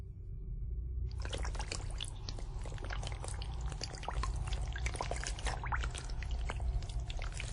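Water drops run off a water-repellent lotus leaf, heard as a continuous close trickling and dribbling that starts suddenly after a second of quiet, with small splashy ticks throughout and no speech.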